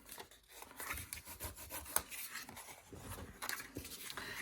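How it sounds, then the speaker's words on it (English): A scored paper flap is pinched and folded down during a watercolor card craft, giving a continuous close dry rubbing and crinkling with small scraping textures throughout. "you just need to pinch the V and fold this little flap down."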